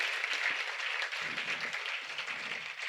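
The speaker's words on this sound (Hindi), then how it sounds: "परम पूज्य महाराज श्री मोहन प्रियाचार्य जी महाराज के लिए जोरदार तालियां हो जाए।" Applause from a Hindi-speaking religious gathering welcomes a visiting maharaj, a continuous, moderately loud patter of many hands that holds steady throughout without voices over it.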